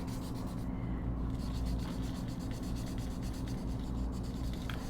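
Faint, steady scratching of a pink watercolor pencil dragged across paper, a soft continuous rubbing texture with no talking and a low background hum.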